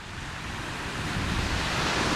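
Ocean waves wash steadily onto a shore under clear winter-day skies, a continuous broadband surf roar with some wind buffeting the microphone, building slightly louder toward the end.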